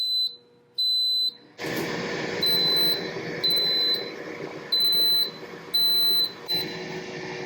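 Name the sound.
air fryer beeping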